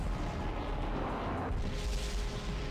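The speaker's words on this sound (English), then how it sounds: "He doesn't self-destruct, he just explodes out of his mouth." An enemy blowing up in the video game Skies of Arcadia makes a loud, sustained rumbling blast that fills the clip, with no talking over it.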